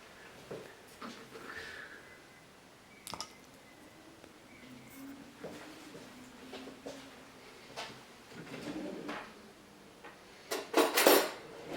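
Fork and metal utensils clink and rattle as they are sorted and handled, with scattered soft knocks, a drawer-like slide, and a louder burst of metallic jangling at the end.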